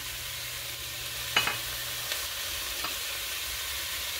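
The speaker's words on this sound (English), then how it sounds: "So I'm going to go ahead and add the hamburger." A pound of hamburger meat frying in a pan for cheeseburger mac and cheese, a soft continuous sizzle with a sharp clatter of stirring or scraping, then a couple of fainter knocks, with no talking.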